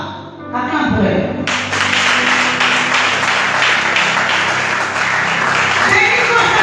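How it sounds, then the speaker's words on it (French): Congregation at a church service breaking into loud, sustained applause and clapping that fills the room for several seconds, with a brief quieter moment at the start. "Acclame pour elle"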